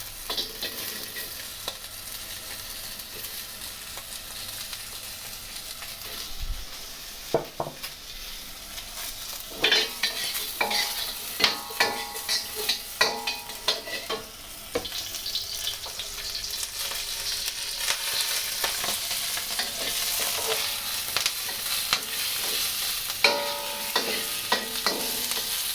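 Onions stir-fried in a hot pan for shrimp lo mein, a constant loud sizzle broken by repeated scraping and clattering stir strokes that grow busier midway, close up and without talk.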